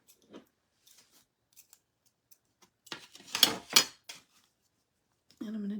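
Scissors trimming fabric for a Mod Podge craft project, giving a few sparse, quiet snips spread apart, with a short cluster of louder cuts near the middle and no talking.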